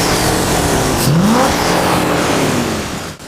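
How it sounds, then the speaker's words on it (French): A petrol car wrongly filled with diesel accelerates hard, its engine note climbing in a rising rev sweep before easing off and cutting out near the end, loud and close with no voices. "Tu vois, une petite accélération"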